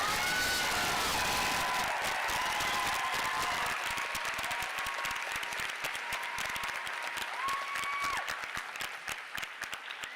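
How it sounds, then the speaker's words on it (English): A large graduation ceremony audience applauds steadily for the valedictorian at a girls' leadership school, dense continuous clapping with scattered cheers and whoops throughout. "please join me in a round of applause for our 2025 valedictorian"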